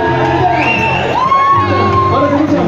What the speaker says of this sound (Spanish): ¿Cómo está el grito de las mujeres solteras?